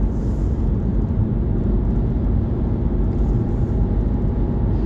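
Steady, loud road rumble from inside a car as it overtakes a lorry on a rural road near Raunds, a continuous broadband engine and tyre drone with no distinct peaks.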